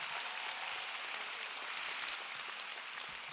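Graduates at a university commencement ceremony applaud, a continuous dense wash of many hands clapping together at steady, fairly loud level throughout.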